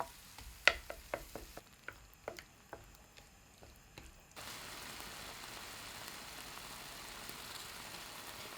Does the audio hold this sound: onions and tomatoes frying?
yes